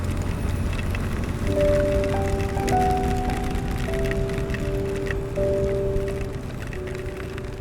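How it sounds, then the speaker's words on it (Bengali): Sudden heavy rain pours during a motorbike ride on a highway, a dense steady hiss with wind and engine drone throughout, close and loud, with a few tonal whines rising over it. "বৃষ্টি একদম হঠাৎই চলে আসছে"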